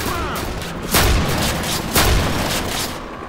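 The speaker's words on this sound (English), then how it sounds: "Shoot the clown." Shots in the zombie game Left 4 Dead 2, two loud booming blasts about a second apart over a constant noisy wash of game sound.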